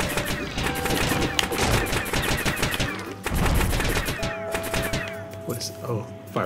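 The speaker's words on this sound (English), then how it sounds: "fireworks gun. I do like that one." A fireworks gun in the video game Zombie Soup fires in rapid bursts of sharp cracking shots, dense and loud, sometimes with short gaps between volleys.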